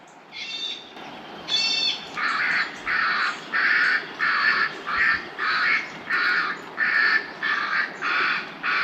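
Birds near vineyards give loud harsh repeated calls, around a dozen evenly spaced raspy squawks in a steady rhythm, close and dominant after a couple of shriller opening cries.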